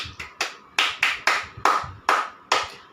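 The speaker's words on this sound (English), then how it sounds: "Okay, 3 claps for yourself." A class claps hands in a quick series of sharp, close claps, about nine in all, slightly uneven in rhythm, with near silence between them.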